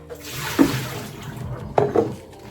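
A tap runs fresh water into a glass vase for plant cuttings, with two splashing gurgles rising in bursts over a low running hiss, close by and without talk.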